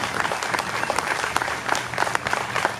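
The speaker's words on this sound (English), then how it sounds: "I would like for everybody to give a round of applause for Ashley Campbell and Daniel Johnson" A crowd at an Orange County Second Amendment rally claps for the event organizers. The applause is lively and uneven, with individual sharp hand claps popping out of the crowd noise and a light murmur of voices underneath.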